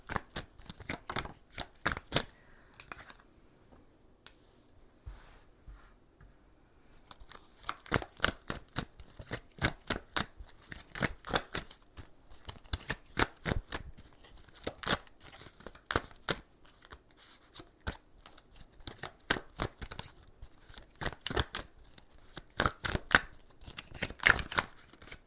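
Oracle cards shuffled in a long run of quick, crisp riffling bursts, close and fairly loud, with a brief lull after a few seconds before the dense card flutter resumes.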